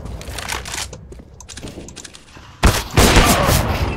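Video game gunfire crackles in quick bursts over a busy background, with a louder volley breaking out near the end.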